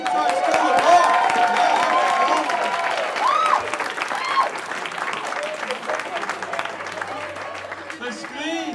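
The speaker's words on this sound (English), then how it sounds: "Why don't we just cheer for them one more time?" Crowd at a school event cheering and clapping for a school rock band, dense applause mixed with whoops and shouts, loud and near throughout, fading slightly toward the end.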